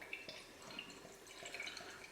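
A bottle of Blue Moon Belgian White wheat beer, 5.4 percent alcohol, is poured into a glass, giving a faint, close trickle with light dripping and fizzing, and no voices.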